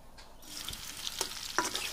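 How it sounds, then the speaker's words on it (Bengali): Potatoes frying in oil make a steady close sizzle, with a few sharper clinks and stirring scrapes near the end and no talking. "আর আলুটাকেও ভালো করে ভেজে নিচ্ছি"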